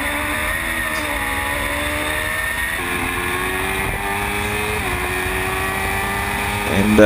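Formula Gulf 1000 race cars at the Dubai GP circuit, engines whining and shifting through gears as they climb a hill, with a commentator talking over the steady engine noise.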